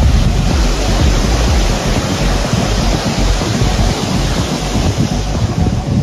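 A small waterfall flows under a bridge, a loud, steady rushing wash of water that stays constant throughout with no pauses or voices.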